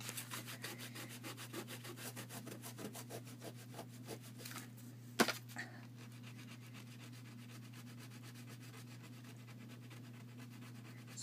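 Tissue paper being scraped across an art journal page gives a steady, close, rhythmic rubbing rasp over a low electrical hum, with one sharper scratch midway.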